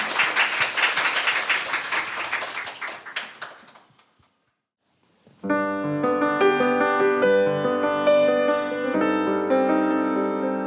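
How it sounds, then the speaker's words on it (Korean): Audience applause at a Korean church book-concert radio event, a dense wash of many hands clapping that fades out to silence before a song begins with instruments. "큰 박수 부탁드립니다"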